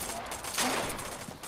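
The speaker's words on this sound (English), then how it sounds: "Someone's shooting at me." A burst of gunfire in Fortnite, a fast muffled rattle of shots that rises briefly and then fades, fairly quiet.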